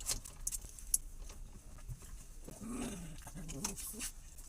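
Dog making excited whimpering and snuffling noises close by, with jangling keys and faint background noise, no clear talk.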